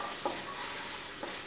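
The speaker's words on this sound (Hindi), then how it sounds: "ये तड़का जो है हमारा, देखो ऑयल छोड़ना शुरू हो चुका है" Tadka tempering for Amritsari pindi chole frying in oil in a pan, a soft continuous sizzle with two brief stirring clinks, steady and close.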